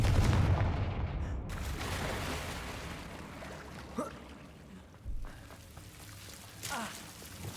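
A Confringo fire spell blasts in Hogwarts Legacy with a loud booming burst at the start that rolls into a fading rumble, followed by a few smaller, sharper impacts.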